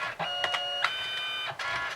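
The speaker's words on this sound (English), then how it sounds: "click print, and it should start printing from my printer" An inkjet-style printer runs a photo print job, its mechanism whirring steadily with tonal motor whines and brief clicks of paper feed, close and alone with no talk.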